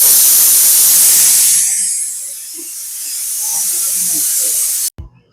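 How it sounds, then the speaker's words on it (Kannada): Steam hisses loudly from a pressure cooker cooking chicken biryani, a bright sustained rush that fades after about two seconds into a low quiet simmer before cutting off abruptly. "ವಿಸಿಲ್ ಆಯ್ತು ಅಂದ್ರೆ ಇವಾಗ ಬಿರಿಯಾನಿನೂ ಕೂಡ ರೆಡಿ ಆಗುತ್ತೆ."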